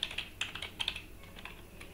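Fast typing on a Mac keyboard, a quick run of light clicky keystrokes with a few louder taps, close and alone with no voices.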